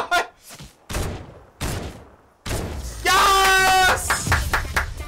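A thermal scoped assault rifle in Fortnite fires a few sharp, separate shots early on, then a louder stretch of game noise follows with a voice talking over it.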